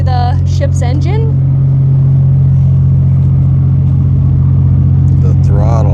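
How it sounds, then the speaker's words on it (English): A diesel engine aboard a Coast Guard sailing ship rumbles in a loud, steady low drone, with people talking over it throughout. "And we run on a diesel engine."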